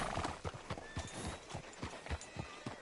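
Horse hooves clip-clop at a steady walking pace in the Western open-world game Red Dead Redemption 2, with close, regular thuds over a faint ambient background and no voices.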